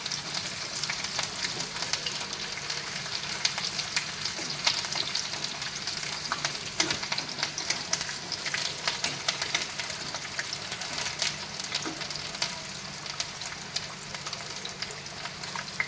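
Upma ingredients sautéing in a hot pan give a dense, continuous sizzle close up, with scraping stir strokes running throughout and no voices.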